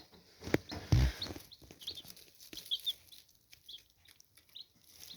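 Young Silkie chicks give high, scattered peeps and soft cheeps, faint and intermittent over a quiet background, with a couple of brief louder knocks near the start.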